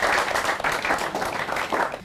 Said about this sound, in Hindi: तालियां जो है बजती रहनी चाहिए।